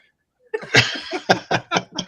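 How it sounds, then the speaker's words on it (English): A person sneezes in a quick burst of several sharp, close, loud bursts with no talk around them. "It's funny because I can hear you sneezing before it comes on here."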